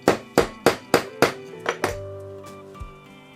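Small hammer tapping a padlock: about seven sharp metallic strikes in a quick, slightly uneven rhythm, close and clear, fading into a ringing clink and a final softer knock.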